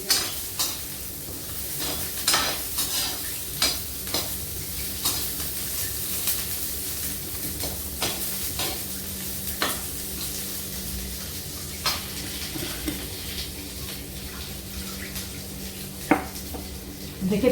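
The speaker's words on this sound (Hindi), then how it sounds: "देखिए प्याज पक रहा है दोस्तों मेरा" Onions cook in a pan with a continuous low sizzle, broken by frequent clinks and scrapes of a spoon against the metal, close by and at moderate volume.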